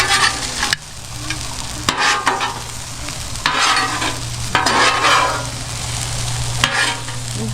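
Onions fry in a hot pan with butter and salt, bursts of loud sizzling rising and falling over a low steady hum, broken by sharp clatters of stirring, close up and with no talk.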